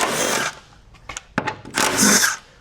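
Cordless power tool driving out the front and rear battery bolts beneath a Nissan Leaf during a 40 kWh pack swap, heard as loud whirring bursts at the start and end with short clicks and clanks between.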